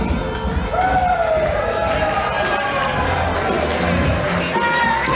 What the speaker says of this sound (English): a big round of applause for John and Cindy Dane